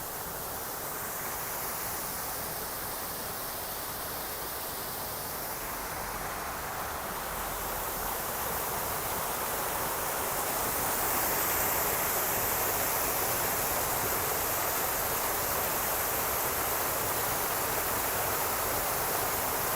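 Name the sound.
garden waterfall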